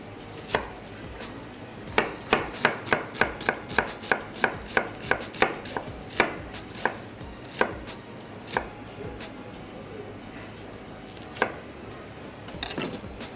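Crimean onion is chopped coarsely on a board with a knife for a Greek salad, a quick run of about a dozen sharp, evenly spaced thuds, then slower scattered chops over a faint background.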